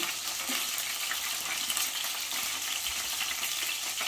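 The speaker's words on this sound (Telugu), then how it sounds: "నూనె వేసుకున్నాక పోపు పెట్టుకోవాలి. ఆవాలు, జీర, పచ్చిపప్పు, ఎండుమిరపకాయలు" Mustard seeds, cumin, chana dal and dried red chilies tempering in hot oil for vankaya pachi pulusu, a dense continuous crackling sizzle at an even, moderate level with no talking.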